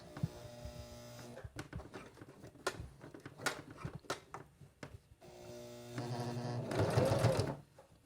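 A sewing machine stitches bulky fabric for a glasses case, first in short, uneven hand-cranked bursts, then running steadily and loudly for a stretch near the end, with no talking.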